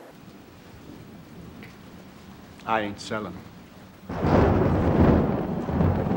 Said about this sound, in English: You want me to stop the thunder gag?